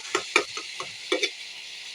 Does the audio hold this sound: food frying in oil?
yes